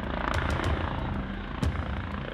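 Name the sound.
gendarmerie helicopter flying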